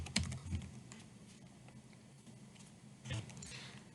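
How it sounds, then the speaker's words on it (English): Quiet typing on a computer keyboard: a few soft key taps near the start and again near the end, with faint speech in the background. "can I type please? Are you gonna let me type?"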